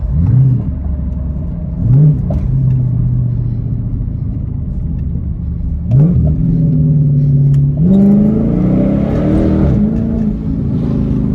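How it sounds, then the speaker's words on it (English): Widebody Dodge Charger Pursuit RT with AWD revving hard through repeated downshifts at night, the engine note dipping and rising in sharp blips over a steady loud rumble, with no talking. "I'm finna give y'all this last downshift"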